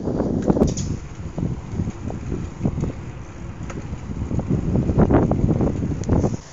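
Steady, buffeting wind rushing over a microphone while cycling outdoors, a continuous low roar with gusty swells and rumbles, no voices.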